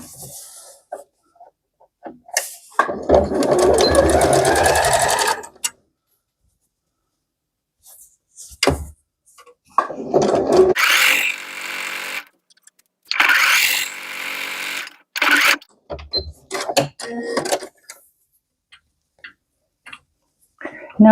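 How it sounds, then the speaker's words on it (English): A sewing machine stitching a quilted boxy makeup bag, running in short bursts of rapid mechanical whirring separated by pauses and quieter handling noises. "I'm going to start sewing about a few inches down."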